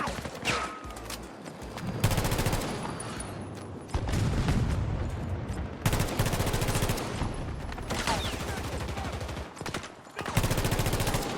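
Rapid gunfire from the VHX-D3 weapon in Battlefield 2042, loud continuous bursts of automatic shots with short pauses between strings, booming and close throughout.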